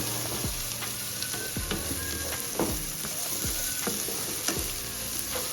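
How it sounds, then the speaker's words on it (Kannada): Chicken sizzles steadily in a hot pan while frying to golden brown, with a constant hiss and several sharp scrape-and-stir clatters spread through. "ಬ್ರೌನ್ ಆಗೋವರೆಗೂ ಫ್ರೈ ಮಾಡಿ."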